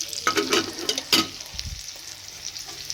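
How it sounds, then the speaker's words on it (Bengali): Potatoes and cauliflower fry hard in a pan, a close sizzle punctuated by several sharp spatula scrapes and clanks early on, then a quieter steady hiss. "আলু ফুলকপিটা একটু কড়া করে ভেজে নিচ্ছি"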